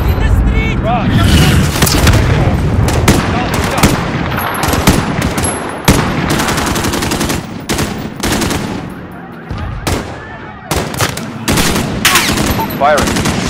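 Bursts of automatic gunfire and heavy booms in a Call of Duty: Modern Warfare PC campaign firefight, loud and nearly continuous with sharp transients, mixed under radio chatter and shouted voices.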